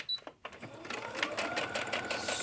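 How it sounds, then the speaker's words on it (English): A sewing machine stitches through a journal page, starting after a few short clicks and then running as a steady, close, rapid mechanical whir that continues to the end. "But I want to kind of add them in with my sewing."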